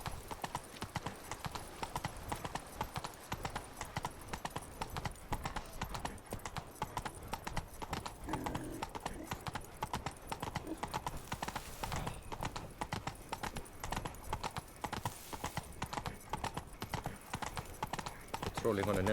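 The horse Roach gallops in The Witcher 3, rapid continuous hoofbeats clattering loudly throughout with someone talking over them.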